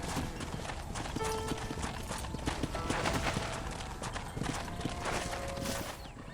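Horse hooves clip-clop at a steady walking pace in the video game Red Dead Redemption, over a dense ambient outdoor bed.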